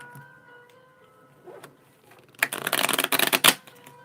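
Small tarot deck being shuffled by hand, a dense burst of riffling card flutter lasting about a second and a half, loud and close after a quiet start with a faint tonal hum in the background.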